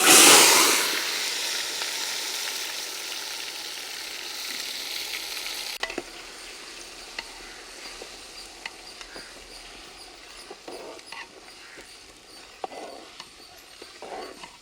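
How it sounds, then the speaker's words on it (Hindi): Dry spices and a paste sizzle loudly in hot oil for a village-style paneer dopyaza curry, starting with a burst of intense frying and settling into steady crackling with occasional stirring clicks. "एबे आमे किसी सुखिला मसला आमर गरम तेल रे देदेबा। तापर एबे किसी पेस्ट देदेबा।"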